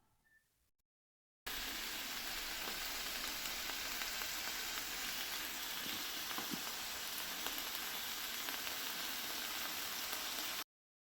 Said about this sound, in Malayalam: ഇതൊരു മീഡിയം ഫ്ലെയിമിൽ വെച്ച് 5 മുതൽ 8 മിനിറ്റ് വരെ ഒന്ന് ഫ്രൈ ചെയ്തെടുക്കാം